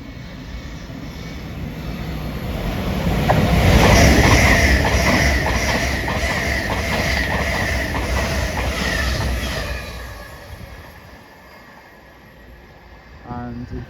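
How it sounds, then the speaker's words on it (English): A fast Intercity Express Train passes on the main line heading towards Paddington, a rising roar that peaks loud and close then fades as it recedes, with wheel and rail rumble throughout. "Here comes another fast IET to Paddington."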